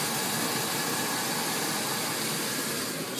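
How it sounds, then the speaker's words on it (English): A 1978 Grand Safari Wagon engine idling: a faint, even hum under a steady airy hiss that runs unbroken for the whole span. "been idling along here for quite some time as I take photographs"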